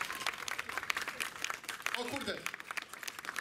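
An audience at a Castorama store event in Gorzów claps for a clap meter: a dense patter of hands, fairly quiet and somewhat distant, with a voice speaking briefly partway through.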